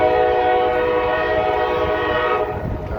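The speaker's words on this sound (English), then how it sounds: "Got a nice K5H horn, nice and loud, blasting east, notch 8." K5H air horn on a coal train locomotive running in notch 8 on the B&O Old Mainline at Mt Airy, Maryland, a loud sustained chord held steadily for the whole stretch over the rumble of the train.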